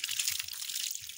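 Water splashes and trickles steadily outdoors in the bush as something is washed, a short continuous hiss with no voices.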